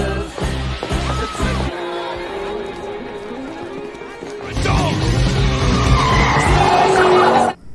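Film scene of a car speeding off with tires skidding and squealing, loud and close, with surging engine noise and a sharp crash-like burst partway through, all set against a busy film soundtrack.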